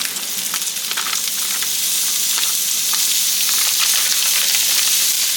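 Food sizzles steadily in a skillet with onion, a continuous bright hiss with small crackles that stays close and loud throughout, with no voices.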